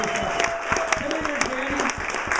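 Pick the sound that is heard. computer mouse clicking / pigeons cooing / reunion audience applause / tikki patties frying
reunion audience applause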